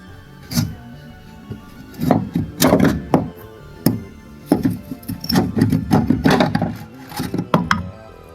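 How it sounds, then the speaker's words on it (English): A spanner working on a bolt under an Austin Allegro, a series of close, irregular metallic clunks and knocks with scraping in between, no talk. "we're going to go around the front, we're going to undo the bolt."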